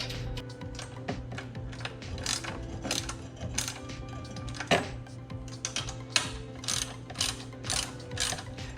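Collars on a Mega Moto 80/105 swingarm are tightened with a ratcheting tool, giving quick bursts of close metallic clicks in irregular runs, fairly faint, with occasional clinks of metal parts.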